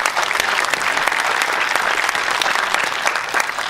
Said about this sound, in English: How about a nice round of applause for Keith and all the years he's given in public service